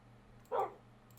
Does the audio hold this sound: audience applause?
no